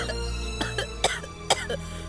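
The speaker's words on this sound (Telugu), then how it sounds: "ఇంత దగ్గుతున్నావు" A person coughs in several short, sharp bursts spaced over about two seconds, close and indoors over a steady low hum.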